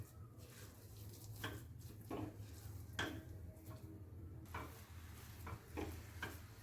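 A milk-powder topra paak mixture is roasted in a pan, with soft repeated scraping and stirring strokes over a quiet sizzle. The strokes come at an uneven rhythm and stay faint throughout.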